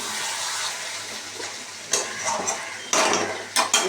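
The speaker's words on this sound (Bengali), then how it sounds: "এবার একটু কালো জিরে ফোড়ন দিই একটা শুকনো লঙ্কা ফোড়ন দিই" Nigella seeds and a dried red chili tempering in hot oil, a soft hissing sizzle joined by louder bursts of crackle and clatter as the spices hit the pan, close and without talk.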